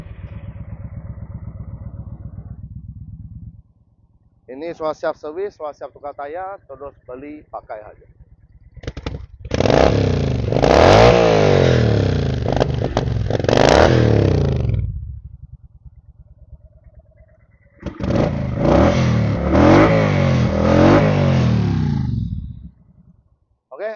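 A 2013 Kawasaki Vulcan 900 Classic with twin exhausts starts up and revs in bursts, loud and close, its engine rising and falling between idle stretches while someone talks over it.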